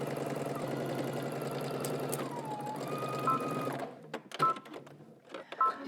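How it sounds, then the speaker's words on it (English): A sewing machine runs steadily while stitching the crotch curves of a pants seam, close and continuous, then stops and is followed by clicks and handling noises. "you're just gonna go to your sewing machine, you're gonna stitch both your back and your front crotch curves"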